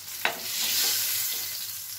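Pointed gourd (potol) frying in oil in a pan, giving a soft continuous sizzle with one sharp scrape of a spatula near the start, close and fairly quiet.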